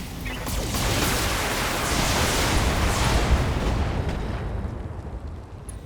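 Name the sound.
shot destroying a vehicle in BattleTech video game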